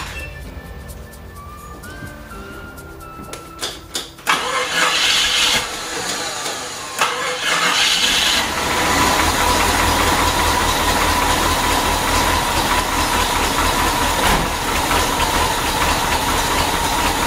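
A Jeep Wagoneer engine cranks over and catches, close and loud. It then settles into a steady, even idle that runs to the end, with a newly installed radiator and no voices.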